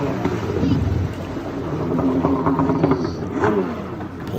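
Richter XFS Ninja Extreme freestyle jet ski with a DASA 1200 engine at a freestyle jet ski championship, its engine droning and revving with rising and falling pitch, heard at a distance under wind noise while a voice talks over it.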